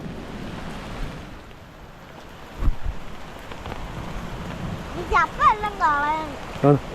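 Steady rain patters and hisses in the background while a person talks over it, with a few thumps near the start; rain falling while catching fish outdoors.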